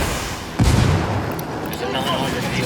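Gunfire in the Ghost Recon Wildlands video game: a heavy, booming burst of shots lands just after the start, then fades into a dense, rumbling battle noise that continues to the end.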